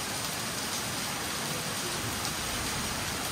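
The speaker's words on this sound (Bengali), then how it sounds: "কি অপূর্ব লাগছে যে বৃষ্টিটা। এখন এত জোরে হচ্ছে, একটু পরেই কমে যাবে" Heavy rain pours steadily outdoors, a dense, continuous hiss of drops striking surfaces with no pauses, close and loud throughout.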